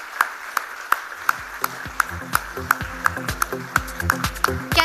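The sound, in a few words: audience applause for a special guest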